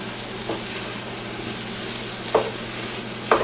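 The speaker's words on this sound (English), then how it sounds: "stir them suckers in, mix them good" Meatballs being stirred into a pot of stew, with a steady bubbling simmer and a few scraping clunks of the spoon against the pot, close by.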